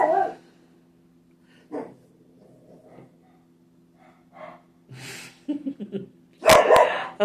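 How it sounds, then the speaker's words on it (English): A dog gives a few scattered barks and snorts with quiet gaps between, ending in a louder burst, with faint breathing and a low hum. "Stop barking at nothing."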